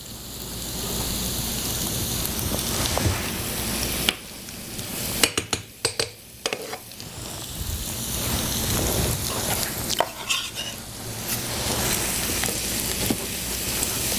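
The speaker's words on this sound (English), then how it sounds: "And then we're going to add some butter to the pan." Butter melting in a frying pan gives a dense, loud sizzle that drops away briefly after a few seconds, broken by clinks of utensils against the pan, then hisses steadily again.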